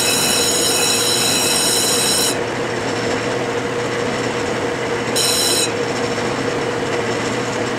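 An abrasive disc spins in a drill press while it cleans up metal, giving a continuous loud grinding rasp. Bright high scraping bursts come and go as the disc bites harder.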